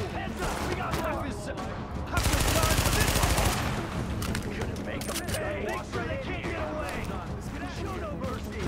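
Automatic gunfire from The Division video game: a dense, loud burst of rapid shots in the middle, surrounded by continuous battle noise and scattered pops.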